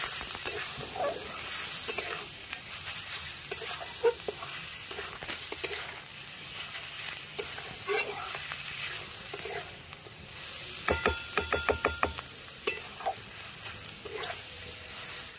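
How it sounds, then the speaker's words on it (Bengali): Chopped coriander stirred into radish chhechki frying in a pan, with a steady sizzle throughout and a brief run of quick scraping, clattering strokes near the end; no talking. "ভালো করে একটু আমি নেড়ে দেবো ধনেপাতা কুচিটা দিয়ে"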